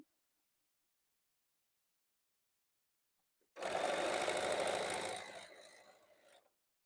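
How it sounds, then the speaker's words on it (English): Sewing machine stitching a quarter-inch seam on a quilt block, starting after several seconds of silence and running in one steady burst of about three seconds before slowing and stopping. "stitch a 1/4 inch down"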